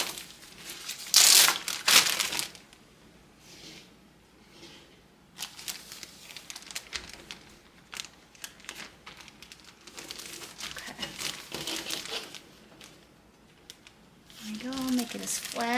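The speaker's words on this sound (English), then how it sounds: "I'm just going to slide this paper towel right into the bag." A paper towel slid into a plastic bag during a seed viability test, giving loud crinkling and rustling bursts near the start, then softer intermittent plastic crinkles continuing throughout.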